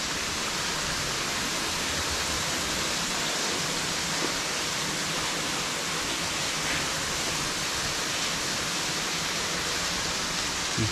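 A waterfall in a canyon roars as a continuous, even wash of rushing water, loud and close, with no voices and no change in level.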